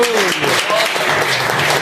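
A church congregation claps loudly and continuously during a Portuguese-language worship service, dense applause filling the space while a preacher's voice carries over it.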